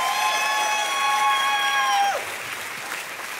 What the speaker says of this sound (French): Est-ce qu'on peut applaudir plus fort,